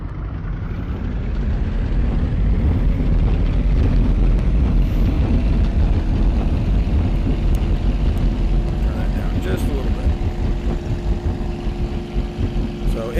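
Engine of an aircraft in World Flight VR taking off from Rosecrans Airport, a loud continuous droning roar with a steady rumble that grows, then holds a sustained engine tone as it climbs, alone without talk.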